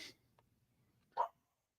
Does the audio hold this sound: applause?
no